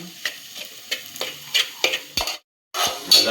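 Eggs sizzling in a pan for egg bhurji while a spatula scrapes and stirs in a quick, regular rhythm of short strokes, close and crisp, with a brief pause before the stirring resumes.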